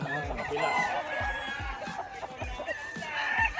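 Gamecocks and bullstags at a Philippine game farm give repeated low clucks and short calls close by, mixed with other birds, while people talk softly in the background.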